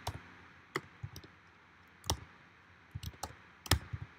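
Someone types on a computer keyboard in a quiet room: sparse, soft clicks and small clusters of keystrokes come at irregular intervals, faint and close, with no talking.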